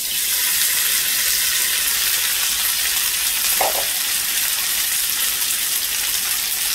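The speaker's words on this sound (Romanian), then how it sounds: "am să prăjesc bamele." Okra fries in a pan for an Egyptian-style potato and okra stew, giving a steady, loud hiss and crackle of hot oil that runs unbroken throughout, with one brief clink partway through.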